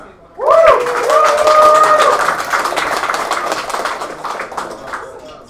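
Audience applause at a game development meetup, a burst of clapping from a crowd that rises quickly and then tapers off slowly, with a few calls or whoops at the start.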